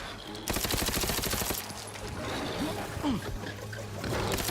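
Enemy shooters firing in the video game The Outer Worlds 2, a rapid burst of automatic gunfire followed by scattered shots over a busy game soundscape, with some voice in the mix.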